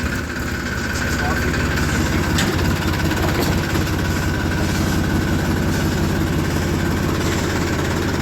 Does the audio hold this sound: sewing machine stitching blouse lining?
no